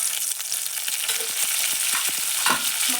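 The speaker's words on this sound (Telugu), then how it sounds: "మంచిగా ఫ్రై చేసుకున్న తర్వాత కరివేపాకు వేసుకోండి." Curry leaves dropped into hot oil for tempering crackle and sizzle, with a string of short spattering pops over a steady hiss.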